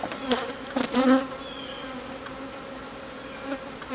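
A dense, steady buzz of many honey bees droning close by at an open hive, with a few louder passes rising briefly above the constant hum.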